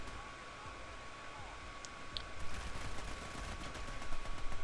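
Gunfire in the video game Army of Two during a warehouse firefight, a steady wash of rapid shots and crackle that grows louder toward the end, with voices talking over it.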